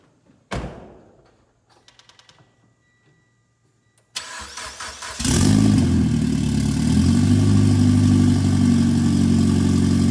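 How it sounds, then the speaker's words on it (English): A Mitsubishi Lancer Evo X with no exhaust or downpipe cold-starts: a door thud and a brief chime, then the starter cranks and the engine catches into a loud, raw, steady idle that runs to the end. "we're just gonna do this cold start up here because, you know, it ain't got any exhaust"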